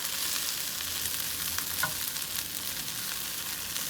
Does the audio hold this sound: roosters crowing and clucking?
no